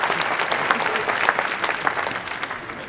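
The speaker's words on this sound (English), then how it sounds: "I respect the difference of people applauding this time." An audience applauds at a senior banquet, a dense, steady burst of clapping close by, lasting a few seconds.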